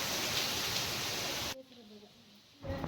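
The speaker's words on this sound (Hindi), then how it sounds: "तो हो रही है बारिश।" Rain falling outside as a loud steady hiss that cuts off abruptly partway, leaving a faint lull before the rushing sound returns.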